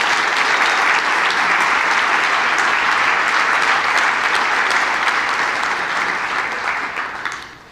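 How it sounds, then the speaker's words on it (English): Dinner-event audience gives a long round of applause for the evening's staff, a loud, even roar of many hands clapping that holds steady for about seven seconds before tapering off at the end. "Let's give them a round of applause."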